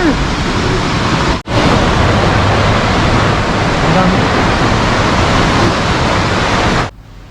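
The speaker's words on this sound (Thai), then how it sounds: "น้ำตกเคกอง ติดอันดับหนึ่งในสามของน้ำตกที่สวยที่สุดในญี่ปุ่น" Kegon Falls in Nikko, Japan, where lake water drops down a 97-metre cliff: a loud, steady broadband roar fills the whole stretch, with one brief dropout near the start and an abrupt stop at the end.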